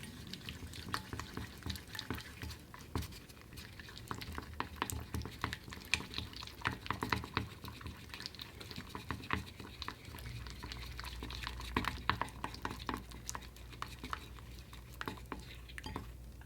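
Root-beer-scented slime mixture stirred in a bowl, a steady run of soft wet patters and sticky squelches close by, with no talking.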